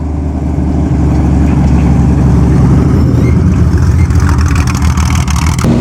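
A Porsche 911 rally car runs at the Pebble Beach concours, its loud engine rumbling steadily nearby with a rising rev toward the end.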